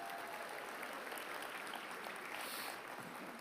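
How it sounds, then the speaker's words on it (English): Round of applause from the audience at the Alaska Federation of Natives convention, a faint, continuous wash of many hands clapping in a large hall, steady from start to finish. "That is a big deal and deserves a round of applause"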